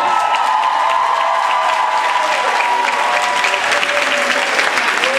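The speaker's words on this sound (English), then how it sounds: "Applause for Akiko." A fan convention crowd in Rome applauds for a guest during a Supernatural panel. Loud, continuous clapping fills the room with some cheering mixed in, holding at an even level throughout.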